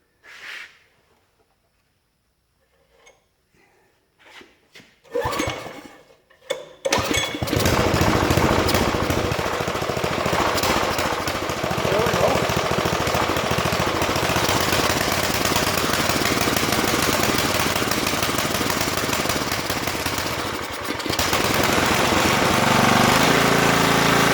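A Yard Man rototiller, left unused since fall 2007, sputters through a few short cranking attempts, then catches. Its small engine settles into a loud, steady idle that runs unbroken for the rest of the clip.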